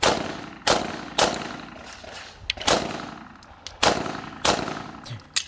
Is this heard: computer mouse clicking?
no